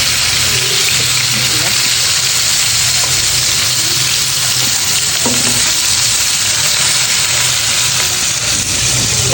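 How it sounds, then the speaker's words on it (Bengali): Fish fry in a hot pan in a home kitchen, a loud, continuous sizzle and crackle with faint stirring and scraping throughout. "মাছগুলো এক ভাজা হয়ে যাচ্ছে"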